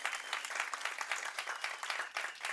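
A masterclass audience claps in steady, dense applause that continues unbroken and fairly close throughout the short stretch, with no voices on top.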